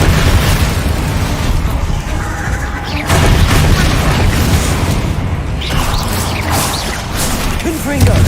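Booming spell blasts from a Bombarda cast go off in a fantasy video game, heavy explosive bursts and crashing debris filling the mix while a voice speaks over it.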